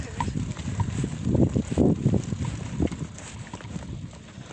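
A mare walks through a forest clearing near a lake in the Troieshchyna woodland, her hooves clip-clopping softly and irregularly against steady wind noise, with faint voices nearby.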